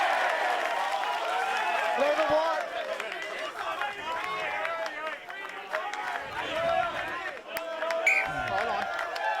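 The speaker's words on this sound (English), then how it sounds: "We have a very vocal crowd here this evening, and it's never easy playing in someone else's backyard." A vocal crowd at a Queensland Premier Rugby match between Sunnybank and Brothers keeps up a continuous roar of shouting and chatter, with a commentator talking over it throughout.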